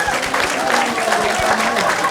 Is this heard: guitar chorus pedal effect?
no